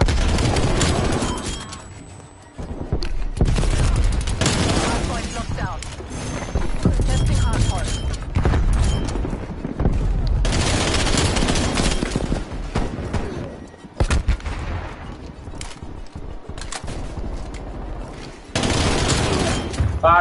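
Rapid bursts of AK-47U automatic fire in the video game Call of Duty: Black Ops Cold War, loud and close, repeating in several long volleys with short gaps between them while game sounds continue underneath.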